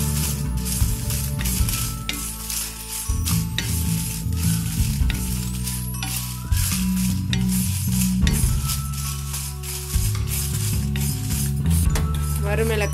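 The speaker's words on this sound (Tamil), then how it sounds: "வறு மிளகாய் வறுத்தாச்சு," Dried red chillies roast in oil with a little salt, a loud, constant sizzle running through, mixed with repeated stirring scrapes and light clinks against the pan.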